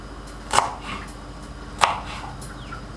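A knife chops carrot and vegetables on a board for veg fried rice, two sharp distinct chops with lighter taps between, close and clear without talk.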